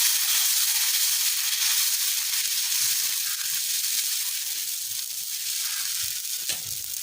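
Green gram dosa batter hisses steadily on a hot griddle, a continuous close sizzle that fades only slightly over time.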